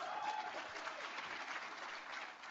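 An audience claps in steady, dense applause that sounds somewhat distant and holds at an even level throughout.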